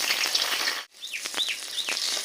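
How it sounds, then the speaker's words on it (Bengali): Pointed gourd pieces frying in hot oil in a wok give a close, continuous sizzle. It cuts out briefly and then resumes, with a few bird chirps audible behind it. "কড়াতে তেল দিয়েছি, এবার পটলগুলো, তেল গরম হয়ে গেছে, পটলগুলো এবার দিয়ে দেবো।"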